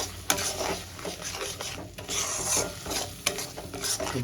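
Tomato puree with chilli and garlic sizzles softly in a pan for a boal fish curry while a spatula stirs and scrapes through it in quick, irregular strokes, with a few sharper knocks against the pan.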